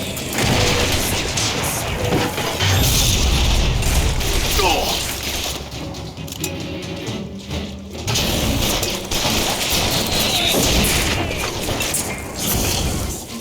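Dense, loud gunfire and explosions from combat in the video game Bioshock Infinite, heavy recoil bursts running almost continuously with brief dips, layered over game music and effects.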